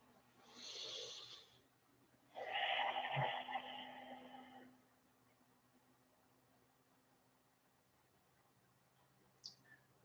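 Slow, deliberate yoga breaths, an airy inhale followed by a longer breathy exhale, quiet and close against a faint hum, with a soft click near the end.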